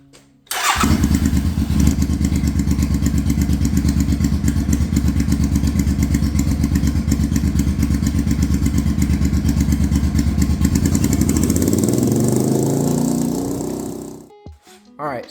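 A loud motorcycle engine with a charging fault starts with a thump, then runs at a steady, close idle for about twelve seconds before revving down and shutting off.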